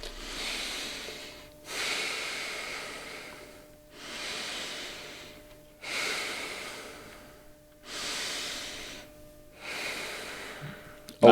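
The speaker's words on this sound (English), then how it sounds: "Just take 3 deep breaths." Three slow, deep breaths taken close to the microphone, each a long airy inhale swelling then a softer exhale, in an even rhythm with short pauses between, with no talking.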